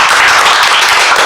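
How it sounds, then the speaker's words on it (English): A big round of applause from the audience at a coaching mastery session, a dense, loud, continuous wash of many hands clapping together, heard alone in a short burst. "Give yourself a big round of applause."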